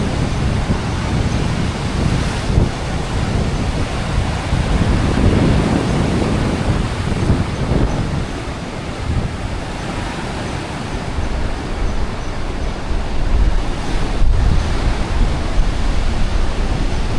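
Seawater surges and churns into a rock pool on the Maltese coast, a loud, continuous roaring wash with rising and falling swells and wind on the microphone throughout.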